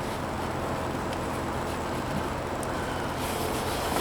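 A constant roar of highway traffic in the background, a steady broadband rumble with heavy vehicles passing and no voices.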